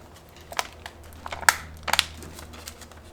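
Someone opens and handles a paper envelope. A few sharp crinkles and tearing rustles sound close by over a quiet background.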